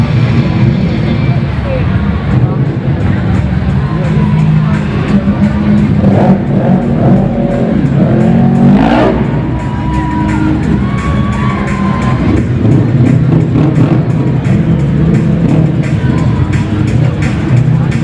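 Monster truck engines roar and rev during a Speedster obstacle course race at a stadium event, loud and continuous, with a cheering crowd and an announcer talking over them.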